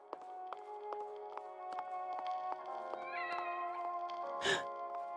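A cat in the horror video game The Evil Within lets out one short, loud meow near the end, heard over a steady droning musical backdrop with regular soft tapping beats.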